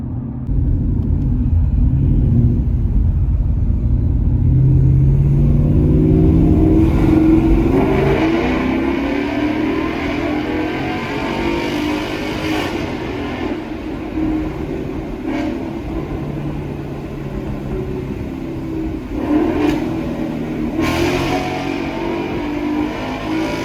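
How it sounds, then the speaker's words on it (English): A 2019 Ford Mustang GT with a Corsa Extreme exhaust accelerates through a tunnel, its deep exhaust drone booming and echoing off the walls, loudest early and then easing to a sustained roar, with no talking. "how could you say no to tunnel runs when you've got the Corsa Extreme exhaust on the 2019 Mustang"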